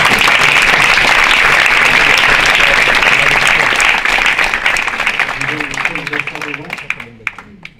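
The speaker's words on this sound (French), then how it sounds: "Vous pouvez tous vous applaudir." Audience applause at the Mash Up Nantes startup meetup: dense, loud clapping from a crowd that holds steady for several seconds, then thins and fades while voices begin to talk over the tail.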